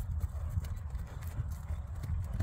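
Hooves of a gentle, easy-walking criollo overo horse clip-clop in a steady, close walking rhythm as it is ridden on reins, fairly faint and with no talk over it.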